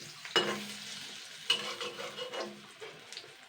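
Battered vegetable fritters sizzle and spit steadily in hot oil in a frying pan, with a sharp scrape and clatter near the start and another around the middle as they are turned over.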